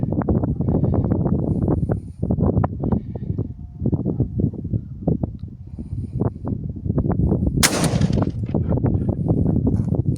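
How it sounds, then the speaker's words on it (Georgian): A Benelli Ethos Sport shotgun loaded with Azot No. 4 shells fires a single sharp, loud shot partway through, over a busy, continuous outdoor background. "და იგივე აზოტის 4 ნომერს გავისვრით."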